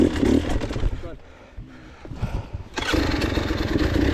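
KTM 300 XCW two-stroke dirt bike engine during a hard enduro ride, loud and close, with revs dropping for a moment and then surging back up.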